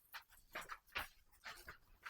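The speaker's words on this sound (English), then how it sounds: "here she is, my prize pooch Madonna." A dog softly whimpers and pants in short, uneven bursts, faint and close, with no talking.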